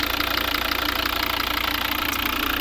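Steady close-up idle of a 2012 Volvo V60 with the 2.0 D3 diesel and automatic transmission, giving an unbroken knocking clatter and low hum that stays level throughout, with no talking.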